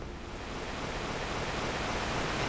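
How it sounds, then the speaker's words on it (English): Waterfall inside a cave in the video game Devil May Cry 3: a steady, broad rushing roar of falling water, loud and constant throughout, with no voices. "Into the cool waterfall cave"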